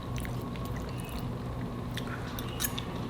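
A homemade chicken pot pie spaghetti bake is being chewed close to the mic, with wet squishy mouth sounds and a few crisp bites over a constant noisy background.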